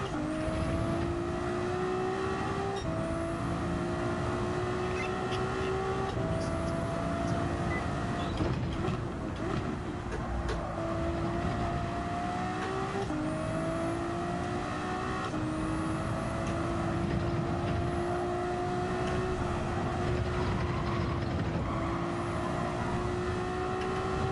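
GT3 race cars in a racing video game roar continuously, engine pitch rising and dropping repeatedly through gear changes as cars accelerate and brake around a championship circuit, steady and loud with no talk.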